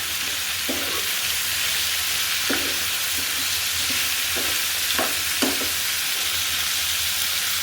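Green chillies fry lightly in oil, adding to carrots already fried in the same pan for a chicken tehari, with a continuous loud sizzle and several soft knocks and scrapes of stirring scattered throughout.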